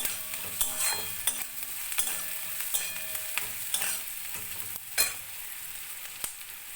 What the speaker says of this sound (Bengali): আমি পেঁয়াজগুলো ভাজতে নিয়েছি